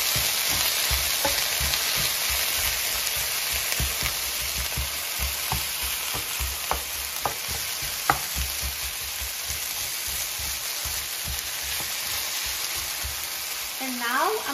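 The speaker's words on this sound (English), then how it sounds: "So now it's sizzling, so I'm going to turn the heat to medium-high, and I'm going to mix the potatoes." Potatoes fry in a pan over medium-high heat, giving a loud, constant sizzle with scattered scrapes and clicks as they are stirred, and no talking.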